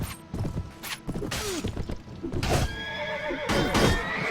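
A horse neighs loudly several times amid thuds, clatter and hoofbeats in a video game battle, with a busy, chaotic background.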